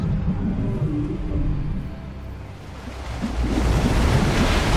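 Ocean waves surge and wash continuously in the Fortnite video game, a steady broadband roar with low rumble that dips briefly mid-way then swells louder toward the end, with a wind-like hiss throughout.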